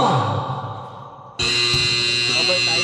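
A basketball shot clock buzzer blares at a pickup game, a loud sustained electronic drone cutting in abruptly after a spoken countdown and holding steady to the end.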